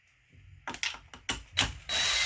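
Screws are backed out of a McCulloch SP125C chainsaw housing in a few short ratcheting bursts of a driver, with clicks between them, ending in a steady whir close by.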